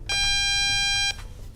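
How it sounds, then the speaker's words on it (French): A Diagral wireless home alarm control panel gives a single long electronic beep, steady and high-pitched, for about a second from close by, then cuts off into quiet room noise. "La centrale confirme par un bip long."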